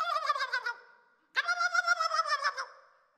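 A person vocally imitates a wild turkey's gobble: two loud, rapid, warbling gobbles, the second longer, with a brief pause between them and no other sound.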